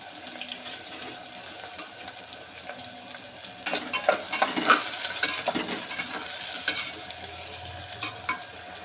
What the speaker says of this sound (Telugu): ఇది బాగా ఫ్రై అవ్వాలి